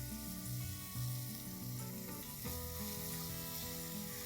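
Onions caramelize with salt in a frying pan, a soft, steady sizzle heard fairly faint and close with a low tonal hum underneath and no talk.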